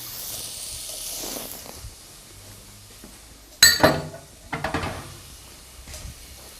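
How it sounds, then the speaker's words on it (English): A spoon stirring diced carrot and red capsicum in a pot for a pumpkin soup, giving a sudden metallic clink and scrape followed by a few more scraping knocks amid a soft sizzle. "Give that a little stir."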